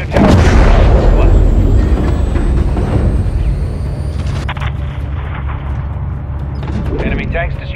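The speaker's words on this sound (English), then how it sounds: "Drop a missile on that fucker." A missile strike blows up an enemy tank in Call of Duty, a loud, heavy explosion with deep rumbling that holds and slowly decays, followed by lingering battle noise and radio-style voices.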